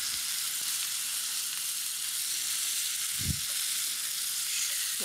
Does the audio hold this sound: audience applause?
no